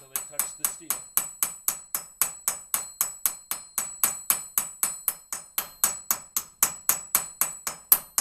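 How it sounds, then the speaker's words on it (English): Steady, evenly spaced hammer blows peening a homemade rivet end down onto steel, ringing and metallic, close and loud, about three or four strikes per second with no talking. "Working my way around the end of that rivet, bringing the outside edges down till they touch the steel."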